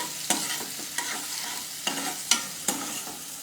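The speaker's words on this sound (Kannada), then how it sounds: "ಇವಾಗ ನಮ್ಮ ಘೀನು ಬಿಸಿ ಆಗಿದೆ. ಆನಿಯನ್ ಆ್ಯಡ್ ಮಾಡ್ತಾ ಇದ್ದೀನಿ." Two medium onions frying in hot ghee while being stirred, a steady close sizzle broken by five or six sharp spatula knocks and scrapes spaced unevenly, with no voices.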